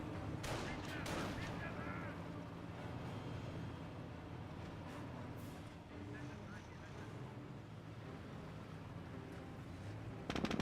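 Gunfire and artillery rumble from a Company of Heroes battle, with riflemen, grenadiers and a Jeep engaging, forming a dense, steady barrage of shots and booms that continues throughout, with a sharper burst near the end and commentary talk running underneath.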